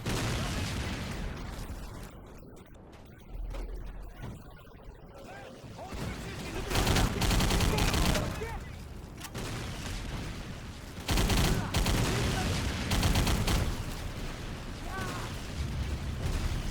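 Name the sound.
gunfire while shooting enemies in a video game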